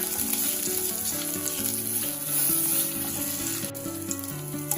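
Slit green chilies and half a teaspoon of asafoetida sizzle steadily in hot oil for a no-onion, no-garlic South Indian sambar, a continuous close frying hiss with music playing underneath.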